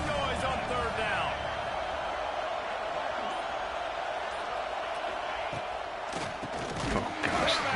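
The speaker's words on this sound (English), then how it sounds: "This dog crowd is off the leash, and they are coming after them, bringing noise on 3rd down." A loud stadium crowd roars on third down in the College Football 26 video game during an Alabama dynasty, a dense wall of noise that holds steady throughout with brief thumps near the end.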